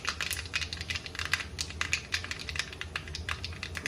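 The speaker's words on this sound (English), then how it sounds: "You can hear the mustard cracking." Mustard seeds crackle in hot mustard oil, a rapid, irregular burst of sharp pops and spatters up close, continuous and without talk.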